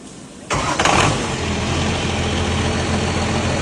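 A diesel drum wood chipper's engine cranks briefly, catches with a loud burst, then settles into a steady, rumbling idle close by.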